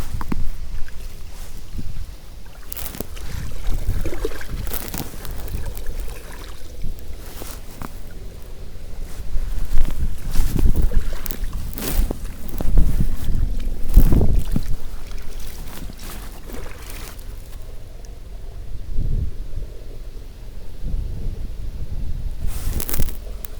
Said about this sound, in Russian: Ветер сегодня сильный, блин.